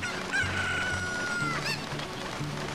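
Chicken clucks and squawks from Zelda: Ocarina of Time, short pitched game-sound calls rising and falling over a steady background of game music.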